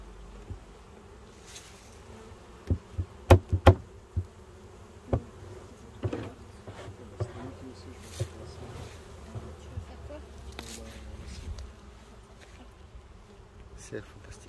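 Honeybees fly at a hive entrance during an organic formic acid varroa treatment, their soft, continuous buzz close by and punctuated by sharp clicks and knocks.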